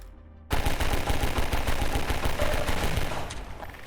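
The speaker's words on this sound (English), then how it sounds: "I did pick up a pistol, so I just decided to shoot the planks instead." A pistol fires rapidly at wooden planks in the video game Half-Life 2, a loud, fast stream of sharp shots packed closely together that starts abruptly after a brief quiet moment.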